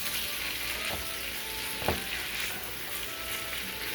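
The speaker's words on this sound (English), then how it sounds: "Sausage is coming along" Sausage frying and browning in a pan for a Thanksgiving lazy man's stuffing, a steady close sizzle with occasional soft pops and a faint stir, no voices.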